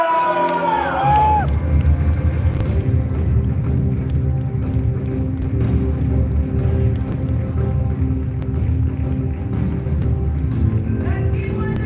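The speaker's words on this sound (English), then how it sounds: "Let's give once again a round of applause" An audience at an AI launch event in Indonesia keeps up broad, steady applause and crowd noise after a countdown. A rising swoop of stage effects opens it, with music-like tones running underneath throughout.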